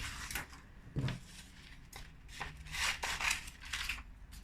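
Scissors snip through paper while cutting out a small paper circle for an Easter craft. Repeated soft, close crisp cuts and rustles come in an uneven rhythm.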